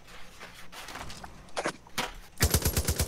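A mounted machine gun firing in Far Cry 5 opens up near the end as a fast, evenly spaced burst of heavy shots, loud and close, after a stretch of quieter game noise.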